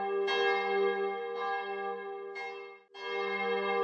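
Repeated strokes of a deep, resonant bell in the AFK Journey video game, four strikes roughly a second apart, each leaving a long sustained ring, with a brief dip in sound before the last stroke.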